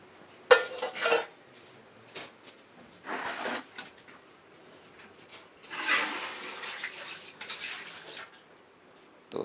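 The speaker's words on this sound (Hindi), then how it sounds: "बर्तन रख करके पूजा जी सभी में पानी डाल रहे हैं" Metal pots and utensils clatter as they are set down on a household courtyard floor in the morning, with bursts of water pouring into them, the splashing and clinking coming in separate close, moderately loud spells with quiet gaps between.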